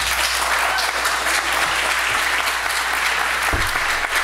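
Steady, dense applause from the audience at a Norfolk Super Ward 6 candidates forum, sustained and fairly loud throughout with a low hum underneath.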